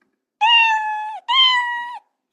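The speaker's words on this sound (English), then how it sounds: "change the pitch twice and play meow" Two cartoon-style cat meow sound effects from Scratch play back to back, each about a second long, loud and clean; the second is pitched slightly higher than the first, with silence around them.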